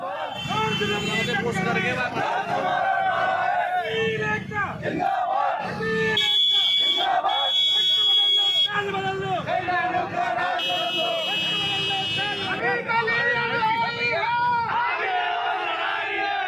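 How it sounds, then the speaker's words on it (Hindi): Lawyers chanting protest slogans against the administration outside the SSP office in Mathura, a crowd of raised voices shouting in bursts with overlapping babble, loud and close. "यहां पर एसएसपी ऑफिस के सामने वकीलों ने प्रशासन के खिलाफ नारेबाजी की"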